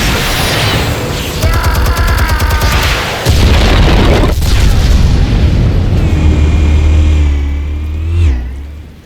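A heavy explosion in the Telltale Batman video game, a loud sustained rumbling roar with a sharp blast partway through, followed by a long low boom that slowly fades.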